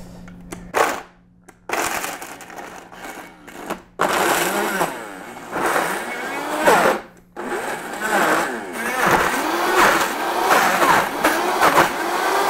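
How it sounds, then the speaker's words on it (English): A kitchen blender crushes lobster shells in loud bursts, switched on and off repeatedly with short gaps and grinding, rattling pulses, and brief talk between runs. "Lobster shells go into the blender."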